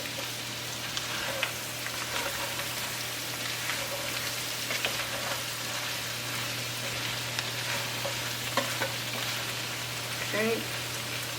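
Half a cup of butter melting in a pan gives a soft, continuous sizzle with scattered small pops and crackles, steady throughout with a low hum beneath.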